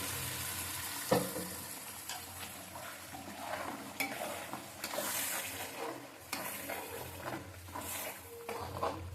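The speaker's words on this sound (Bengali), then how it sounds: "এবারে আমি মশলার মধ্যে পালং শাকের মিশ্রণটা দিয়ে দেবো" Spinach paste is added to frying spices for palak chicken and stirred in a pan, with a soft continuous sizzle broken by a sharp clink near the start and repeated scraping stirs.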